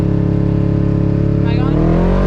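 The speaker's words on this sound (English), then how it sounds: "Now put the gas to the floor." A Jeep engine revs at full throttle at a mud drag strip, a loud, steady, close droning roar that swells and climbs near the end, with voices talking over it.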